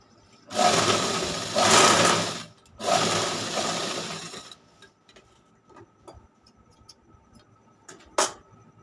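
A sewing machine stitches fabric in two loud whirring bursts of about two seconds each, followed by quieter ticks, clicks and a brief final whir as the cloth is adjusted.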